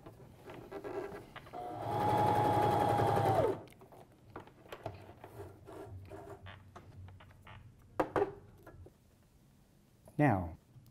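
Sewing machine zigzag-stitching an elastic waistband, a close, steady mechanical whir with a rising motor tone running about two seconds, set among quiet handling and soft talk.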